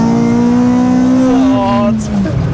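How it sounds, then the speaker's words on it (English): Honda Civic track car with a 282 bhp naturally aspirated engine, its tyres flicking up stones under a loud, steady engine drone that falls in pitch near the end, heard from inside the cabin. "The tyres picking up the stones."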